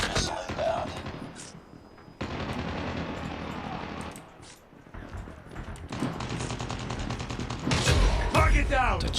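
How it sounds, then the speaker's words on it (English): Call of Duty Mobile match with a Predator missile strike and heavy gunfire: rapid bursts of automatic fire, sharp explosive blasts and game effects crowding each other, loud and close, over in-game announcer voices. "Friendly Predator missile inbound"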